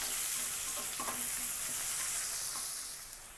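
Onions and curry leaves fry in a pan with a continuous soft hissing sizzle and faint stirring scrapes, fairly quiet and with no talking.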